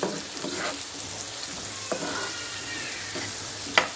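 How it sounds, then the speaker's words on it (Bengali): Onions frying in a pan on the stove for a Bengali potato mash (aloo bhorta), a steady soft sizzle with a few light stirring scrapes and one sharper click near the end, no talking. "এটা আলুর ভর্তার জন্য পেঁয়াজটা ভাজতে আছি"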